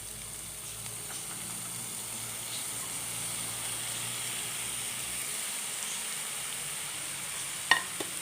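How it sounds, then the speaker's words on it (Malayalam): Chopped banana flower sautés with onion and green chili in a pan, giving a steady, moderate sizzle throughout with a brief stir clatter near the end and no speech. "കൂമ്പൊക്കെ ഒന്ന് വഴക്കി ഒന്ന് എടുക്കണം"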